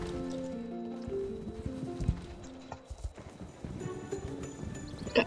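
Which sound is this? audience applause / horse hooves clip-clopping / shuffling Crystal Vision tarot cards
horse hooves clip-clopping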